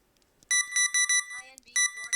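Electronic alarm beeps sound in loud, evenly spaced bursts, several in quick succession, then a short pause with faint clutter before two more tones close the sequence.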